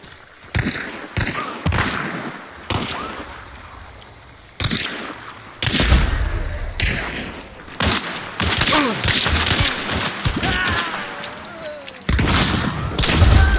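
Gunshots in the Hunt Showdown video game crack out in loud, sharp, separate reports and short clusters, with brief quiet gaps between volleys.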